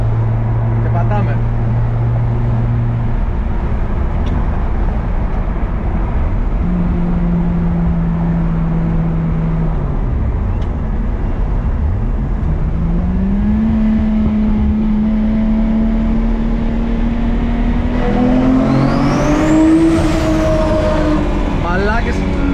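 Toyota Supra MK4 accelerating hard through a road tunnel, its engine note rising and falling across gear changes and climbing steadily toward the end, loud and reverberant, with people talking over it.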